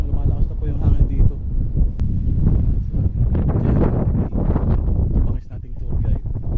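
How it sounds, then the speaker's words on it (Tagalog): Strong mountain wind on Mt. Pulag buffets the microphone in heavy low rumbling gusts, with people talking underneath. "Lumalakas na po yung hangin dito."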